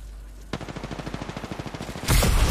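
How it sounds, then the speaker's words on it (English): Rapid automatic gunfire in Apex Legends, a steady burst of evenly spaced shots close and loud, ending in a heavier blast at the end. "Opening fire on the enemy."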